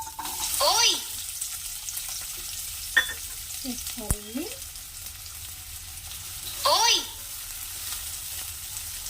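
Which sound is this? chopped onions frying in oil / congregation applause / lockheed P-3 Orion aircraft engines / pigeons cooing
chopped onions frying in oil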